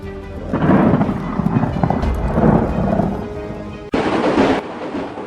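A thunderstorm: heavy rain hissing steadily under long rolling rumbles of thunder, loud and close, followed by a sharp abrupt crack near the end.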